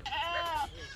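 A Ganjam goat, a long-horned Indian breed, gives one short nasal bleat up close, clear and loud before fading quickly.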